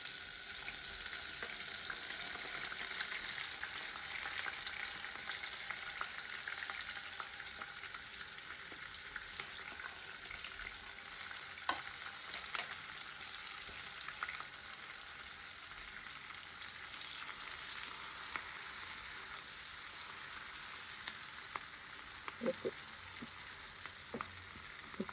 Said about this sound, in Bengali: একটু হালকা ভাজা দিয়ে নেবেন